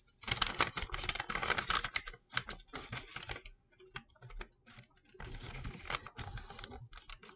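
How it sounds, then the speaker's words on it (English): Sheets of origami paper being folded in half for an origami house, giving bursts of crisp rustling and creasing that come and go over several seconds, with no talking. "we want to fold our paper in half, horizontally"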